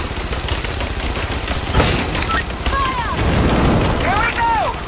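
Gunfire and booming impacts from the video game Rise of the Tomb Raider, a dense rumbling barrage with bright whistling streaks over it, loud and continuous.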